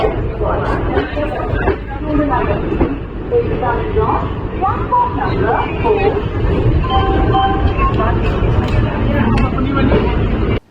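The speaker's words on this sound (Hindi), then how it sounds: "और गाड़ी हमारी पहुंच चुकी है अगले रेलवे स्टेशन पर।" A Prayagraj-bound Kalindi Express train pulls into a railway station at night, its steady rumble and clatter filling the scene loudly and continuously while voices and announcements murmur throughout.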